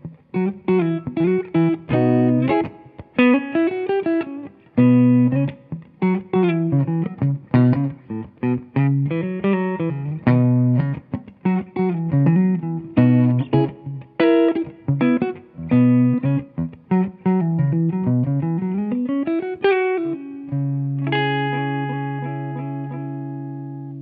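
A PRS Custom 24 electric guitar played through its bass humbucker pickup runs through a clean, articulate melodic phrase of picked notes and slides, closing on a sustained ringing chord, loud and alone.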